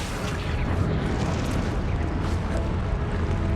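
A Confringo blasting spell explodes in Hogwarts Legacy, a dense, roaring burst of rumble and crackle that stays loud and steady throughout with no pause.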